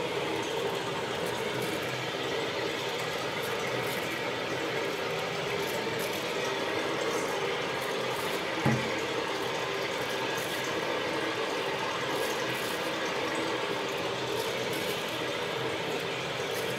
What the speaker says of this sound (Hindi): अब इसमें ये हम पानी डाल रहे हैं, इसको मिक्सर कर रहे हैं मक्का को।